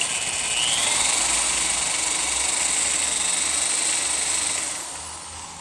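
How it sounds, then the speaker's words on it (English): Power drill enlarging holes in metal to fit an M6 bolt, a loud steady high-pitched whine with a rising pitch sweep early on, held for several seconds before winding down near the end. "He's just making those holes a little bigger so we can fit an M6 bolt."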